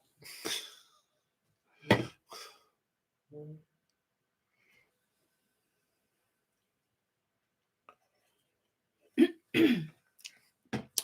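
A few separate coughs and throat clearings break up long stretches of near silence, close and fairly loud.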